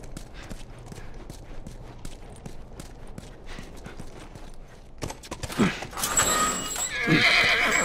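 A horse neighs loudly and whinnies in The Last of Us video game, following a stretch of steady hoof clip-clops, with the whinny rising sharply near the end.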